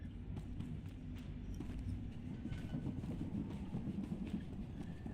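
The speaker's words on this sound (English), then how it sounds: "Also, don't fall off the train." Video game train running on rails, a steady low rumble with regular clickety-clack beats and light metallic taps, quiet and continuous.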